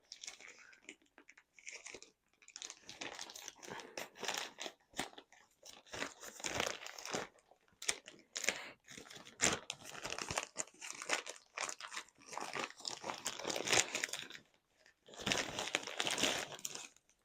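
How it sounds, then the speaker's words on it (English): Crinkly plastic bag rustling and crumpling in close, irregular bursts with short pauses, no talking. "I'm going to open it up. You're going to hear some rustling."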